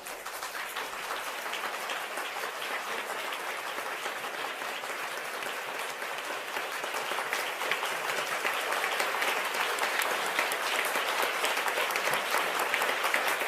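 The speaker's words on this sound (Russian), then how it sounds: "Что все как-то часто хлопают, а Стармер редко хлопает." An audience applauds with dense, sustained clapping that grows slightly louder over about thirteen seconds, heard alone without voices.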